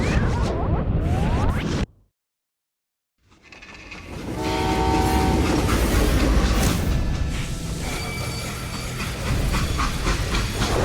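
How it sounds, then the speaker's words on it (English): A freight train in the video game Call of Juarez: Gunslinger rumbles and hisses with a horn-like tone, broken by a sudden cut to silence before the noisy rolling sound resumes, loud and close. "How'd they stop this train in the first place?"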